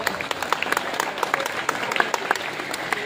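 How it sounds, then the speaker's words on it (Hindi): An audience claps steadily at a school results and prize-giving ceremony, with a loose, sustained patter of many hands close by and a voice speaking over it. "ताली बजाएं, खूब ताली बजाएं"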